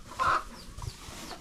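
Dekalb brown laying hens in the laying area give a few soft clucks and a brief louder cluck, close by over a low background hum.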